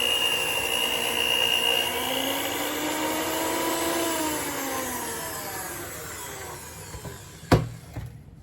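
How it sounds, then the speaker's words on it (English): An electric mixer beats pecan chocolate chewy cookie dough with a steady, continuous motor whir that slowly eases off, then a sharp knock near the end. "sometimes you can over mix stuff with this mixer."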